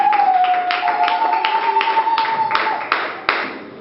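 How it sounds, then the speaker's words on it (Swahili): A church congregation at a Sunday service claps hands together in a run of sharp, fairly loud bursts, while a steady sustained tone hums underneath. "Chapia Yesu makofi mengi."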